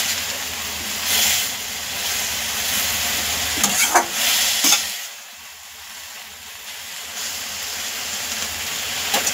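Amaranth greens with onion, chilli and peanut powder stir-frying in a pan, a steady close sizzle with clattering stirring knocks that thins out midway and resumes.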